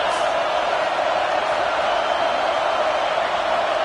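A Nebraska football stadium crowd roars in a continuous, dense wash of noise, steady and loud throughout without letting up.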